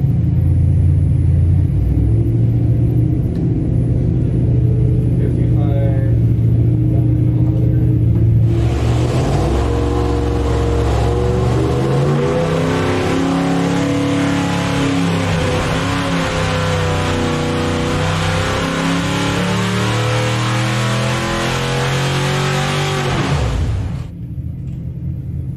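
Ford 302 small block V8 on a dyno, idling low then revving hard and holding a loud, sustained roar with shifting engine harmonics for about fifteen seconds before cutting back down.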